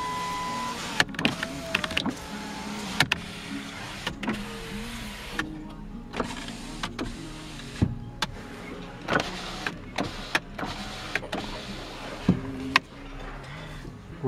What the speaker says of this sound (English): Go back to the power window switch.